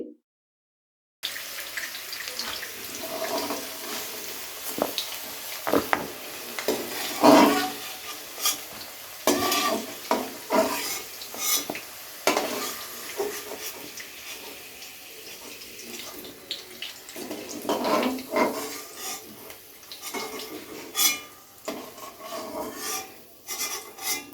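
Potatoes half-fried in oil for a fish-head chhyachra being stirred and lifted out of the pan, heard as soft scraping and rubbing with light sizzling and clatter throughout.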